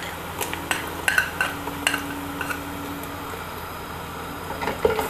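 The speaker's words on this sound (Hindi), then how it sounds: "अब हम इसमें ऐड करेंगे जिंजर गार्लिक पेस्ट," Ginger garlic paste frying with softened onions in a pan, a soft continuous sizzle punctuated by repeated clinks and scrapes of a utensil against the pan, close and moderately quiet.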